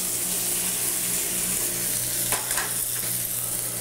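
Mushrooms are stirred into chicken frying in a pan, giving a continuous close sizzle with a burst of scraping and stirring noise partway through.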